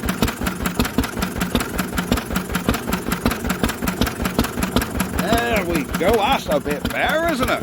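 An old Lister stationary engine fitted with a CS silencer runs close by with a steady, rapid knocking beat, and a person speaks over it near the end.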